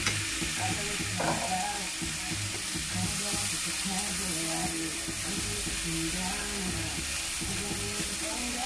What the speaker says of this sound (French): Et je mélange mon cassoulet.